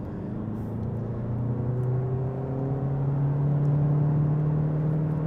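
A 2016 VW Passat Highline with the 1.6 TDI diesel and DSG gearbox accelerates at full throttle, its engine drone rising steadily in pitch under a steady road rumble, heard from inside the cabin.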